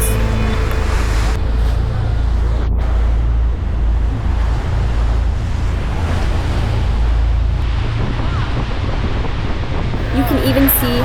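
Roar of Niagara Falls from a boat tour on the Canadian side: a loud, steady broadband rush of falling water and surf mixed with wind buffeting the microphone, continuous throughout with no clear speech.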